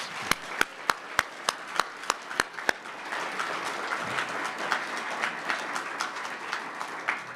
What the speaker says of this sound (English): So please, let's give Dan Dietrich a round of applause.